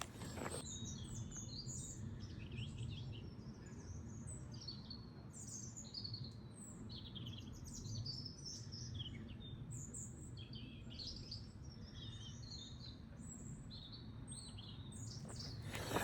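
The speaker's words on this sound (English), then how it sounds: "you can hear the birds. And they're just singing back and forth." Birds sing back and forth in a wooded setting along a stone footpath near a mountain monastery in Meteora, Greece, repeated bright chirps and warbles over quiet, soft ambience, fairly faint and without talk.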